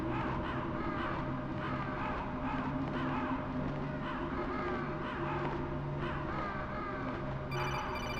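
Crows caw repeatedly over a low hum, and near the end a telephone begins ringing with a bright, electronic trill, in the video game Metal Gear Solid.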